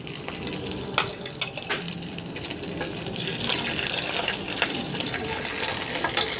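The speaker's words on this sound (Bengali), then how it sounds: "এখন এই তেলের মধ্যে কাটে রাখা ডিমগুলো পিসগুলো দিয়ে এখন বাদামি কালার করে ভাজবো" Cut egg pieces fry in hot oil in a wok, giving a loud, continuous, close crackling sizzle with sharp spits and pops all the way through.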